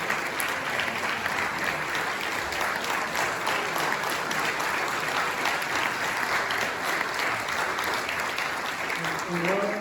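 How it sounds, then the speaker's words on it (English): Audience applause for an honoree at a civic proclamation ceremony before an architecture talk, steady sustained clapping from a packed standing-room crowd throughout, dense and even with no pauses. "Yes, you deserve a great round of applause."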